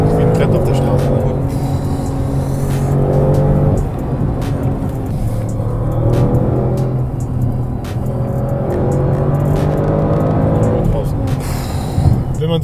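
A 630 hp car takes a series of curves on a road, its engine a steady loud drone from inside the cabin that rises and falls as the driver accelerates between bends, with talk over it.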